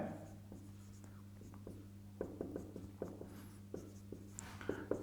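Chalk or marker writing on a board during a Class 9 maths lesson on number systems, with quiet rhythmic taps and strokes over a steady low electrical hum, faint and close, with no talking.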